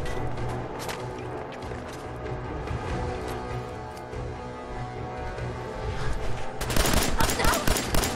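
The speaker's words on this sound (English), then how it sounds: "Who's shooting me?" Gunfire in Fallout 4 rattles through game music and ambience, growing into a louder, dense burst of rapid shots near the end, with some talk mixed in.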